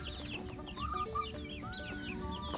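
Chickens clucking in a backyard coop, a busy overlapping run of short clucks and rising calls from several birds close by, with no talking.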